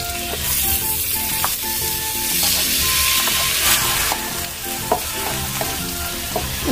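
Garlic and onion, browned and joined by tomato, sizzle steadily in a pan, with scraping stirs and light clinks from the utensil over soft background music.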